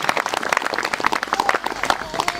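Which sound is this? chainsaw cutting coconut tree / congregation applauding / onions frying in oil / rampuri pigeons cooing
congregation applauding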